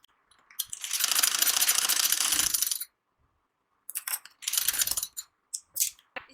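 A sewing machine stitches blouse pieces together, first in one long whirring run, then in several short bursts separated by brief stops.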